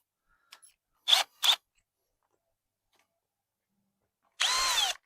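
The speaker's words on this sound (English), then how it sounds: "We'll pre-drill." A power drill pre-drills a hole while mounting an automatic chicken door, with two short close whirring bursts followed by a longer, louder run near the end, separated by quiet pauses.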